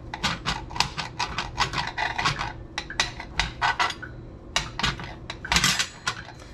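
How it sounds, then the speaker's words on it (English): A knife chops mushrooms on a cutting board for a turkey stuffing, a fast run of crisp, close knocks in quick uneven bursts, pausing briefly before a final flurry. "We're just gonna cut it into smaller pieces"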